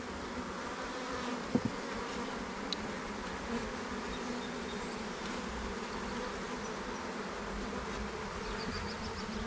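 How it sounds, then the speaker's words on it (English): Honey bees buzz steadily around an open hive during an inspection a week after a package install, a dense continuous drone of many wings close by with no talking. "And these are more worker bees,"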